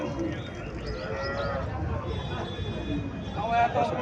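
A twelve-day-old local Deshi calf bleats a few times against a steady outdoor background, with voices talking nearby throughout.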